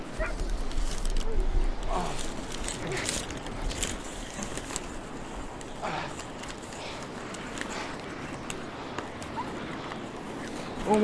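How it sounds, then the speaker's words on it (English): A dog whimpers and barks in a scene from the TV drama The Walking Dead, with short yips and whines scattered through, partly under people talking. "He found dog."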